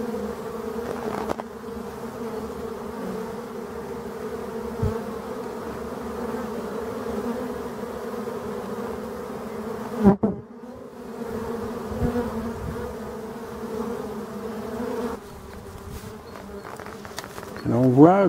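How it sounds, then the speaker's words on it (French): Black bees buzz steadily around the orange, propolis-coated entrance hole of their forest nest, a continuous droning hum that lasts throughout with a few brief louder bumps, and no one talking. "Oh, je les adore ces abeilles."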